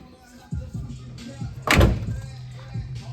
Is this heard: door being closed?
yes